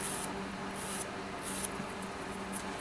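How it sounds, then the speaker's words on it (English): Coarse file rasping over acrylic nail enhancements during a fill and rebalance, a soft, steady scratchy friction with brighter strokes repeating about every half second to second, close and quiet with no talk. "I'm doing that by filing the acrylic, not the natural nail. I'm using a very coarse file"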